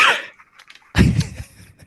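A couple of harsh, close coughs, the second louder and fuller, separated by a quiet breathy pause.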